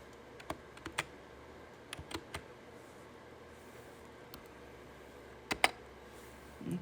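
Isolated computer keyboard key presses during a pen tool software tutorial: a few sharp, quiet clicks scattered in small clusters over a faint room hiss, close to the microphone, with no talking.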